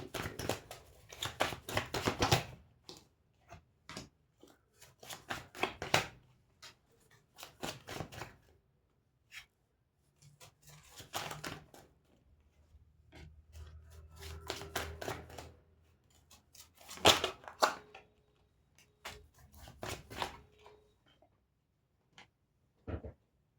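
Tarot cards being shuffled by hand in irregular bursts of riffling and slapping, close and fairly quiet, with short pauses between shuffles and no talk.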